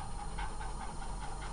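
Two dogs pant rapidly and excitedly, a quick rhythmic huffing close by with no talking.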